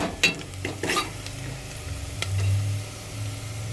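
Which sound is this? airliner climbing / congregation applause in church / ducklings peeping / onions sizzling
onions sizzling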